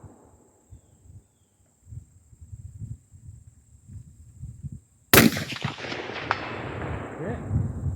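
An AR-15 rifle fires a single loud, sharp shot at a 300-yard range after a stretch of quiet low rumbling, and the blast rings on with a long outdoor tail.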